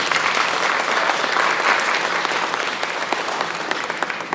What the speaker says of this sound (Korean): 박수 한번 크게 하겠습니다